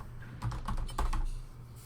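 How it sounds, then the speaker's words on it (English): Computer keyboard keys pressed in quick clustered bursts, several rapid clicks and taps close to the microphone during a Valorant match on the Ascent map, with low background hum and no talking. "I'm pressing all my buttons on my keyboard"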